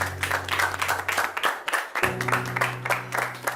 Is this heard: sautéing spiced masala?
no